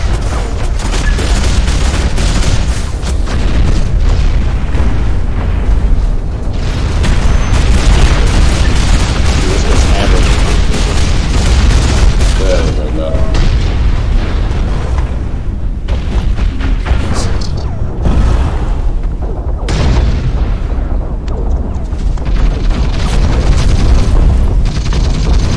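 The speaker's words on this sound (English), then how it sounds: "A grenade off a wall and killed that guy." In the mech shooter Hawken, a grenade bounces off a wall and explodes amid a steady roar of heavy gunfire, booms and engine noise during a loud multiplayer fight.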